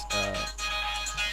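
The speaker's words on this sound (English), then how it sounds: "Sorry, that was my alarm." A short electronic ringtone melody plays, bright tonal notes over a steady low hum.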